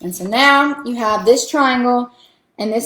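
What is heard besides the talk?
None of the usual background noises is heard.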